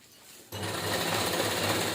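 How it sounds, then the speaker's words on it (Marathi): Sewing machine stitching a cloth tiffin bag, starting abruptly after a quiet moment and then running steadily and loudly with a fast, even mechanical whir and rattle. "बघा अशी व्यवस्थित छान शिलाई मारून द्यायची"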